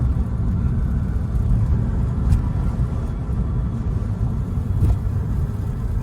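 A 1998 BMW 328is with a 5-speed, long parked and salvage-auction bought, idles in a steady low rumble close by, with no talking.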